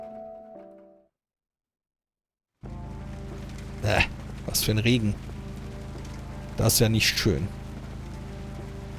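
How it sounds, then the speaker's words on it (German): Rain falls in the video game Kathy Rain as a steady, even hiss. It starts after a short pause and continues under someone speaking German. "Was für ein Regen."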